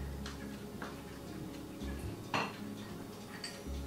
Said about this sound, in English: I'm going to take it and I'm going to put it in a little pretty bowl